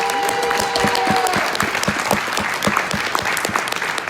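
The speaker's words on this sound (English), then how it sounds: "So can we give them one big round of applause one more time?" A large audience at a youth leadership summit gives a sustained round of applause, dense clapping and cheering filling the hall at a steady, loud level throughout.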